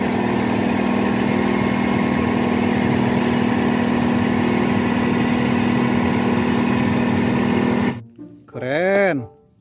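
Steady droning motor hum from a toy cement mixer truck runs loud and continuous for about eight seconds, then cuts off, followed by a brief voice.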